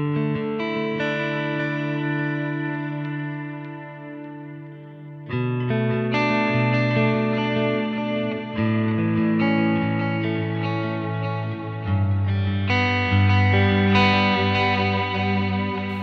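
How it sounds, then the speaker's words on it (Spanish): Sustained, overdriven electric guitar chords played through a Humboldt Simplifier pedal with reverb added, loud and washy, changing every few seconds with long ringing tails. "Si se dan cuenta, pongo un poco de reverb."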